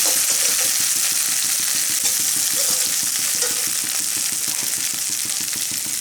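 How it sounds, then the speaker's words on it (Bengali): Sliced onions and ginger-garlic paste frying in a pan for egg curry, a continuous loud sizzle with a regular scraping stir ticking through it, no voice heard. "পেঁয়াজের সঙ্গে আদা রসুনটা খুব ভালো করে ভেজে নেব"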